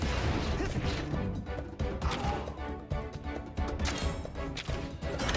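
An iron hammer smashes repeatedly in Monster Hunter Stories 2, a dense run of loud crashing hits over game music, with occasional voice underneath.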